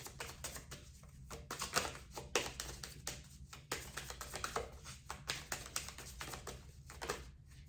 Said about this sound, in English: Let me shuffle a bit more.